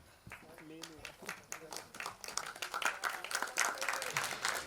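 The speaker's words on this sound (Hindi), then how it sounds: "जोरदार तालियां." Audience applause breaks out at a film trailer launch event, a crowd's clapping swelling steadily and growing denser over several seconds while voices carry on over it.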